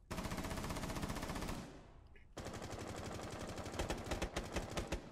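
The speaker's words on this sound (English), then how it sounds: "They're just trying to shoot through the wall now." Sustained automatic gunfire from a video game firefight, with players shooting through a wall: a long rapid burst, a brief pause near the middle, then another dense, loud stream of shots to the end.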